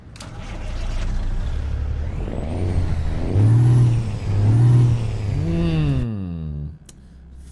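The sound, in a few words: Cummins N14 truck engine starting, American Truck Simulator video game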